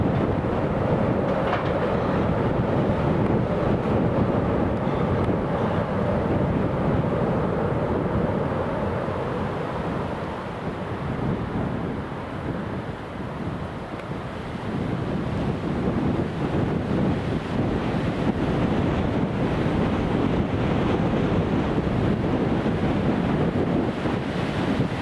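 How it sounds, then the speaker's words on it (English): Blustery wind buffets the microphone at Newcastle International Airport, a loud, continuous roaring rush with slow surges and no talking. "Very blustery, very, very blustery."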